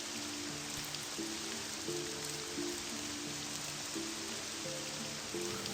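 Steady rain hisses across the whole scene in Morrowind, the video game, a constant soft wash with low in-game music tones drifting beneath it and no talking.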